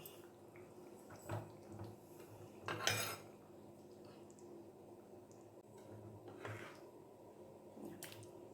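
Pumpkin curry (pumpkin dappalam) is spooned out of a cooking pot into a serving bowl, with a few clinking scrapes of utensil on pot and a louder clatter near the middle, quiet and close with no talk.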